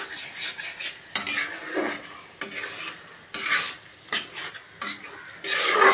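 Minced chicken keema frying in oil in a pan, with intermittent bursts of stirring and spoon scraping against the pan over a soft sizzle, close and with no talking.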